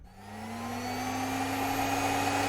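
Steady vacuum cleaner white noise, a loud continuous whooshing roar with a droning motor hum whose pitch climbs slightly, unbroken and heard alone.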